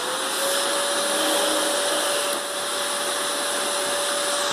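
A Lenovo desktop PC powers on, its cooling fans spinning up into a steady, fairly loud whoosh with a thin constant whine running through it, holding level without pauses and with no talking.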